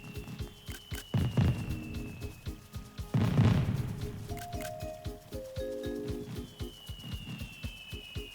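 Fireworks in the video game Animal Crossing: New Horizons, with two louder bursting booms amid a steady crackle and rhythmic patter, plus whistling tones rising and falling over the display.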